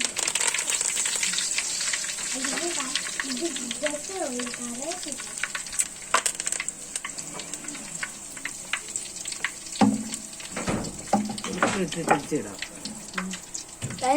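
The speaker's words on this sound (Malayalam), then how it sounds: "കടുക് പൊട്ടിയിട്ടുണ്ട്. ഇനി നമുക്ക് അതിലേക്ക് കരിയാപ്പല ഇടാം." Curry leaves drop into hot oil where mustard seeds have already popped, for a Kuttanadan fish curry; a steady sizzle and crackle runs throughout, with sharper spitting bursts later and faint background voices.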